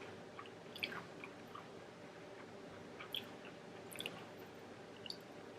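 Crunchy chewing of Flamin' Hot Cheeto onion rings at a mukbang, with several crisp bites and soft mouth sounds close to the mic, quiet overall with no talking.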